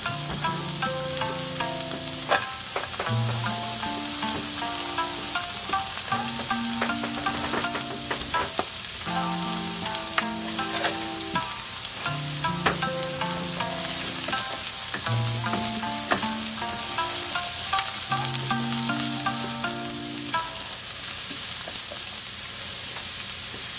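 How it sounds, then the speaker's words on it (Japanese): Carrots and other vegetables stir-fry in a pan for Okinawan somen champuru, giving a steady sizzle with stirring under continuous background music. "その間に野菜を 炒めます。 人参からですね。"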